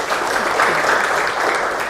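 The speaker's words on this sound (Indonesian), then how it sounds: "Bisa tepuk tangan untuk Zara?" A classroom of students claps for a classmate, a short burst of dense, close applause that holds steady throughout.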